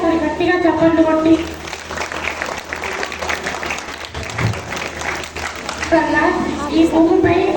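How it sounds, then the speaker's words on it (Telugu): A crowd at a children's cultural gathering claps loudly together, sustained dense applause with a voice over it, rising and falling across the clip. "ఒకసారి గట్టిగా చప్పట్లు కొట్టి"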